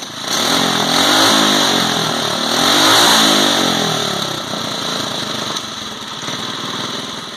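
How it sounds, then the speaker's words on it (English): A Predator 212 small gasoline engine on a go-kart build roars loudly up close on its first start, revving up and down in waves before settling into a steady, buzzing run. "you can check out this video of the engine revving up"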